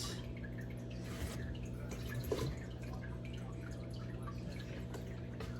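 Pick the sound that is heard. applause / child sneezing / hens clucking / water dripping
water dripping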